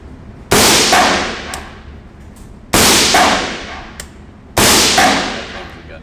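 Three single suppressed shots from a CZ Bren 2 5.56x45mm rifle fitted with a silencer at an outdoor range, each a loud sharp crack with a short decaying tail, spaced about two seconds apart.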